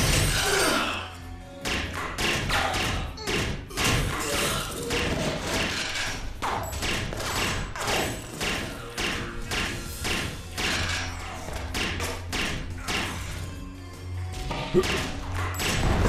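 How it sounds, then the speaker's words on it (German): Grenades fire and explode during Homefront: The Revolution gameplay, producing a dense run of heavy thumps and crashes that repeat continuously over game music and effects. "Okay, der schießt Granaten."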